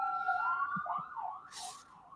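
A wailing police siren sound effect rises and falls for about two seconds, loud and steady, with a brief hiss near the end.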